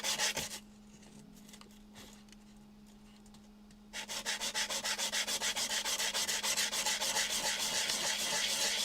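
A bezel is sanded by hand with 800 grit sandpaper, first a brief scrape, then quiet, then a long run of steady rhythmic back-and-forth strokes, close and clear, with no talking.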